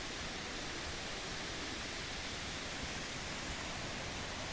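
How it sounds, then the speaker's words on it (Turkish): Gürleyik waterfall pours over rocks in a steady, dense roar of falling water. The sound is continuous and loud, with no voices. "Esasında şurada da bir düşen su var. Şelale diyelim."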